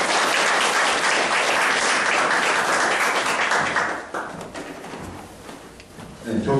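Audience applause closing a Korean business presentation lecture, dense and loud clapping for several seconds that thins slightly, then swells again at the end, with some voices mixed in.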